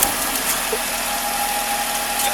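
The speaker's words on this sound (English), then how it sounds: "you notice I have my Jeep on here" A Jeep engine idling close by, a steady loud rumbling drone with a constant hum, alone without talk.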